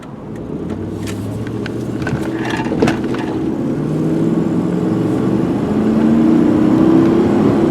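2001 Ford Expedition XLT 4x4 engine accelerating up to speed on the road, a loud steady drone rising in pitch through the gears, heard from inside the cabin.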